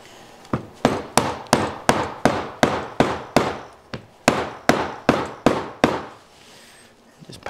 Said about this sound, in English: Just pound that down until that seats.